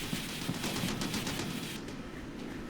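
Rapid, continuous small-arms and machine-gun fire from an HQ unit in the Armored Brigade war game, a dense crackling rattle heard at a distance and at low volume.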